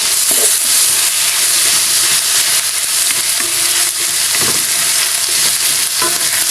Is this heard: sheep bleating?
no